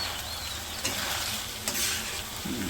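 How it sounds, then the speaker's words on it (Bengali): Raw rice stirred and sautéed in a pan with dried and green chilies for khichuri, giving a steady close sizzle with scraping stir strokes throughout, no talk. "চালগুলো কষে নিই কিছুক্ষণ"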